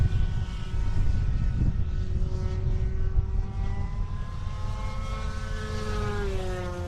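A small RC airplane flies overhead under a gray sky, its propeller buzzing in a steady, loud whine whose pitch slowly rises and shifts as it passes, with no talking.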